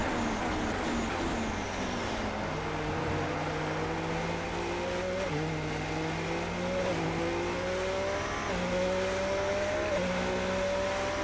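Formula race car engine in a racing video game, driven gently on an out lap at the Abu Dhabi Grand Prix, holds a steady droning note whose pitch climbs and drops back with each gear change, continuous and close throughout.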